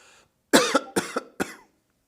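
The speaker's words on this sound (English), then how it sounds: "I can't stop coughing." A person coughs three times in quick succession, each a short, harsh burst close to the microphone, followed by silence.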